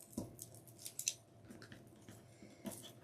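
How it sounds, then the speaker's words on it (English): Scissors or cutters snip deco mesh for a Mardi Gras wreath, a few quiet, close, crisp cuts spaced irregularly with faint handling rustle between them. "We'll just kind of cut a little at a time."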